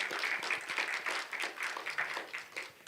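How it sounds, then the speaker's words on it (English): A workshop audience claps for the facilitators, a fairly quiet, small-group round of applause with distinct, uneven individual claps throughout. "I would love to get a big round of applause for our facilitators today, Gio, Rami, David"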